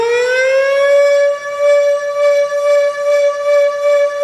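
A Siro Drone civil defense siren winds up quickly to a loud, steady tone, then pulses in a regular rhythm of short dips and swells.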